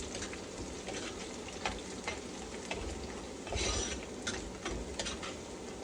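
Garlic fries in ghee in a pan for dal tadka, a continuous close sizzle with intermittent scraping stirs and brief bursts of louder crackling.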